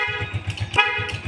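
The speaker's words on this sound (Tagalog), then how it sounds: "So nawawala-wala yung busina. Hindi consistent." Horn on a Honda TMX Alpha 125 motorcycle with faulty wiring, sounding close and loud in a quick run of short, uneven toots that cut in and out.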